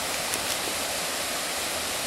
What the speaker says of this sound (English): You can see down there, a small waterfall.